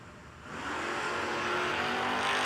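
Drag racing cars, including a 4i Mustang, launch and roar down the strip at the No Delay Nationals drag race, a loud engine wash that surges and builds as they pull away.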